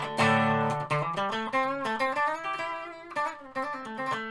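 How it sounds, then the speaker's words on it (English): An electric guitar on its bridge pickup plays a short phrase of bright, twangy single notes and strums, close and clear, each note ringing with a sharp attack before the next. "So the bridge pickup currently sounds like this."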